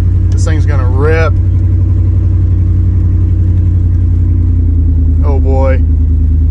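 A 1998 K1500 truck with a swapped 5.3 engine roars at full throttle, heard from inside the cab. A loud, heavy, steady engine drone fills the whole stretch while someone talks briefly over it.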